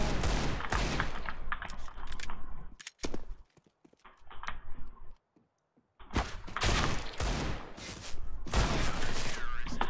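Gunfire in a multiplayer shooting video game comes in loud bursts of rapid shots and volleys, broken by brief quiet gaps, while players talk over it.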